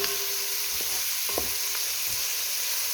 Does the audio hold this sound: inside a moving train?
no